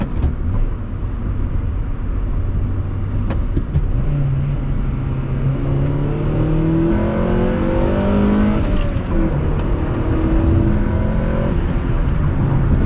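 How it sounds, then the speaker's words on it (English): A 2001 Honda Prelude five-speed engine revs up loudly through the gears, pitch climbing steadily with a sharp rise in tone as VTEC kicks in, steady and close. "second gear, I for sure heard that VTEC crack kick in"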